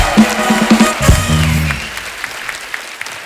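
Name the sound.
audience applause welcoming guests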